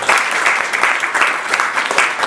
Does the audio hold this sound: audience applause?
yes